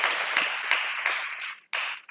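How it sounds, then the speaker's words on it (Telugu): A crowd clapping in praise to God during worship, dense loud applause in rhythmic bursts with a brief pause before it resumes. "చప్పట్లు కొడుతూ దేవునికి స్తోత్రం"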